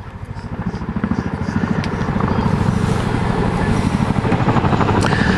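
Deep, rapid rotor thumping from a Chinook helicopter at an airshow display pulses loudly and steadily, a heavy rhythmic beat with a roaring engine whine, close by.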